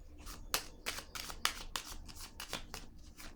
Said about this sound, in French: Je vais piger une carte sur elle.